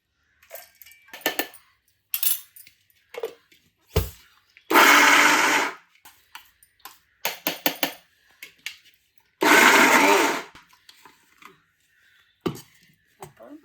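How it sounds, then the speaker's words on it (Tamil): A mixer grinder grinds soaked soy chunks, whirring loudly in two short bursts of a couple of seconds each, separated by clinks and knocks of the jar and utensils. "இந்த மிக்ஸி ஜாடியில் இந்த மீன் மேக்கரை அரைச்சிக்கலாம்."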